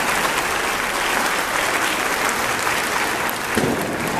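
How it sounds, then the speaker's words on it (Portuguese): A church congregation applauds during a festive Mass for Santa Rita de Cássia, a steady, dense clapping that fills the hall at an even loudness for about four seconds, with no talking over it. "Vou dar uma salva de palmas para todos os presentes na"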